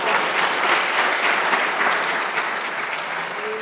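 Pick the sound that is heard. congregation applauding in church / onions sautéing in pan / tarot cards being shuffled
congregation applauding in church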